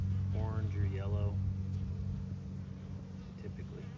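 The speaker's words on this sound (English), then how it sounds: "So you can see bees land in there" Honey bees buzz around a hive entrance during beekeeping work, a close, continuous low droning hum, briefly overlapped by a person talking at the start.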